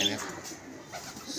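Soft cooing from pigeons kept by pigeon fanciers on a rooftop loft, faint and close, with a voice talking over it.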